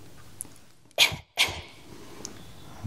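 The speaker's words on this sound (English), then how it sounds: "And a little cough." Two short, sharp coughs in quick succession, close and fairly loud, with quiet room tone before and after.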